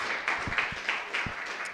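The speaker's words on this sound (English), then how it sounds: "Let's give a big round of applause for the three speakers tonight" Audience applause for three speakers at an evening coffee-themed talk event, a steady dense patter of many hands clapping at moderate distance, continuous for the whole stretch with a few louder swells.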